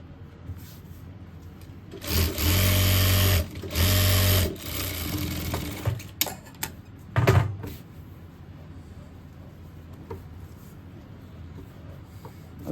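Sewing machine running in two short close bursts, stitching fabric for a boy's cord set, followed by softer running and light handling clicks and knocks.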